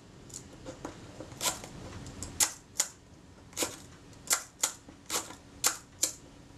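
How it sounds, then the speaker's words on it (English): Shutter of a Zeiss Ikon Contessa 35 film camera being cocked and fired during servicing, a series of about a dozen crisp mechanical clicks and snaps, close and distinct, with no talk. "If I cock the shutter and fire the shutter, it should stay open as long as I've got my finger on the button"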